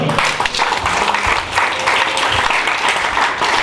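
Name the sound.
congregation applauding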